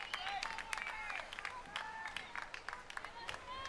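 A crowd at a high school girls' soccer match claps steadily at a distance, with whistles and faint cheers scattered through an open outdoor hum.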